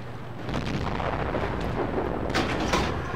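A tank cannon firing in World of Tanks, a dense rumbling blast with broadband roar sustained across the whole moment, followed by sharper bursts near the end, loud and close with no talk.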